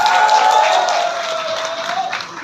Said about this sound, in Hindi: इसलिए आपके लिए एक बार जोरदार ताली होनी चाहिए।